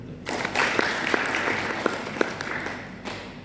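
A congregation at a Pentecostal church morning service in Kaliasin breaks into applause during a sermon, a sustained round of clapping with a few sharper individual claps standing out, ending abruptly.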